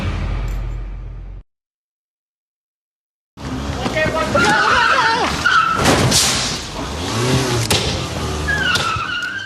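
A stolen car fleeing police roars and revs, its tires squealing and skidding in repeated bursts after a brief silence, loud and close, with people talking over the chase.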